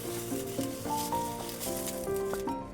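Banana leaves toasting in a hot pan, a steady close sizzle and crackle with faint scraping of a utensil, continuous and fairly loud with no talk, alongside some tonal kitchen or background sounds.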